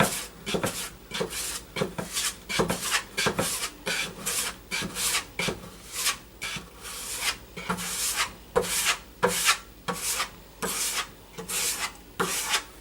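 Stainable wood filler putty scraped and rubbed over wood with a putty knife as a second coat goes on, a steady run of short rasping strokes, close and fairly loud, repeating at an uneven rhythm with no talk.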